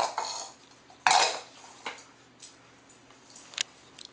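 Chocolate cake batter being spread evenly in a pan, soft scrapes and a couple of sharper clinks of a utensil against the metal, close and fairly quiet, no voices.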